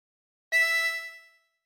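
A single blown note on hole 11 of a 24-hole tremolo harmonica, a bright, slightly wavering tone that starts abruptly and fades over about a second, alone and close.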